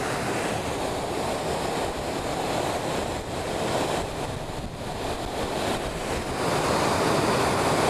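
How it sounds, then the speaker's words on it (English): Water rushing down a drainage hole at Ladybower Reservoir in the Peak District, a continuous loud roaring wash with no break, heard alone without talk. "How many gallons of water is just being sucked down there?"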